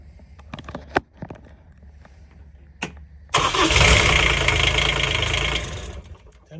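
A Kubota D722 diesel engine in a Club Car XRT 1550 utility vehicle cranks and catches after a few isolated clicks and knocks, then roars into loud, steady running close by.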